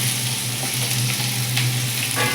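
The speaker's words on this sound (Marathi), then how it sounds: "हा बारीक कट करून घेतलेला कांदा आहे तो आपण यामध्ये घालून घेऊया" Finely chopped onion frying in hot oil with cumin and asafoetida over a medium flame, a loud continuous close sizzle with faint stirring clicks and no talking.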